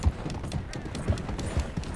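A horse's hooves clip-clop at a steady walking rhythm in the video game Red Dead Redemption 2, with muted low thuds in an outdoor setting.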